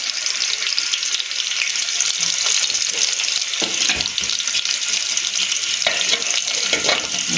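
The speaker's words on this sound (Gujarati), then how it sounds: "થોડો એનો કલર ચેન્જ થાય એ રીતે આપણે આને ફ્રાય કરી દઈશું." Paneer fries in a pan with turmeric sprinkled on top, a strong, steady, close sizzle throughout with occasional low stirring knocks and scrapes, no talking.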